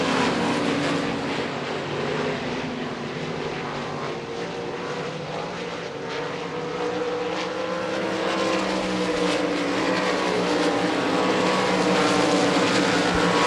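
305 sprint cars roar around the Devil's Bowl Speedway dirt track in Texas, a dense, continuous engine drone from several cars at once, loud and sustained without pause.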